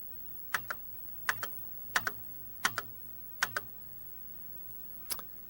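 Keys on a computer keyboard click close by in short paired taps, about five quick pairs spaced evenly, then a single final tap, in a quiet room.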